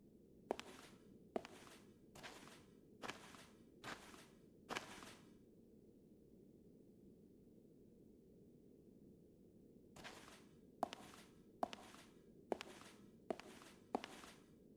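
Footsteps in the video game Fragile Dreams, two runs of about six crisp, evenly spaced steps separated by a long quiet stretch, close and fairly soft.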